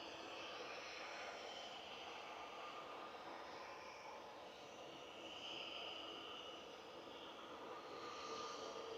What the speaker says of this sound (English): Egypt Air to Cairo is coming straight for us.